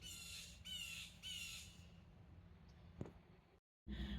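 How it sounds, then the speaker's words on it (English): Birds call outdoors, led by a crow cawing in three loud rasping squawks in quick succession, then quieter background chirps over a steady outdoor hum. "My routine is coming out here and listening to the birds."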